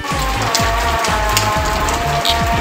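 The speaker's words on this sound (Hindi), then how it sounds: "ये खानसपुर में अभी बारिश आ गई है और हम लोग स्टक हो गए हैं थोड़ा सा" Steady rain falls in Khanaspur, Murree, a dense, even hiss of drops striking surfaces that continues throughout, close and loud, with no voices.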